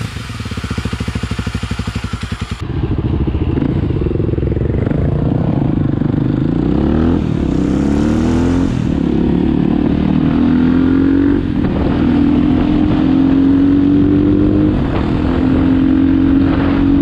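Suzuki 250 SB supermoto motorcycle engine, a loud, close single-cylinder note that starts with a brief rough burst, then rises and falls through several revving pulls with steady harmonic whine, no speech.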